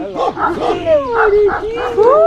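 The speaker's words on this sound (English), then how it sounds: "Oh my God, look, puppies!" Puppies on a trail near Delphi, Greece yip and whimper in high, wavering cries close by, overlapping in quick succession while excited voices talk over them.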